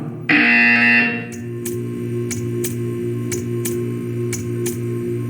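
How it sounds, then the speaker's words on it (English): A loud, harsh electronic buzzer blares for about a second in Portal 2, then a steady hum continues with regular bright ticks, game-like and mechanical. "You will hear a buzzer."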